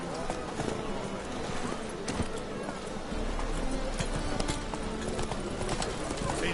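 Horse hooves clip-clop steadily at a trot from Geralt's mount Roach in the video game The Witcher 3: Wild Hunt, close and continuous under character voices and game ambience.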